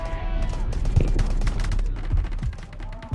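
Rapid bursts of gunfire in the video game Delta Force crackle over a busy, steady background of game noise, with a few sharper shots standing out.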